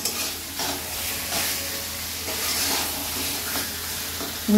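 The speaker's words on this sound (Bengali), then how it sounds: "এটা মাংসটার সঙ্গে আমি কষিয়ে নেব" Chicken sautéed with masala in a pan for capsicum chicken curry sizzles steadily while a spoon stirs and scrapes in repeated strokes, close and clear without talk.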